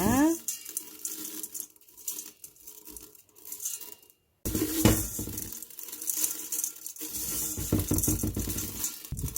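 Water poured into a container holding salted radish for making pickled radish, a fairly loud splashing pour with clinks and rattles, broken by a brief silent gap partway through.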